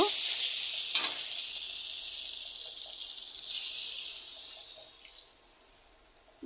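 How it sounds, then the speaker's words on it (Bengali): Water poured into a sizzling pan while the contents are stirred, a steady loud hiss near at hand that fades and quiets toward the end, with a clink of the spoon early on. "জল দিয়ে দিলাম এখন"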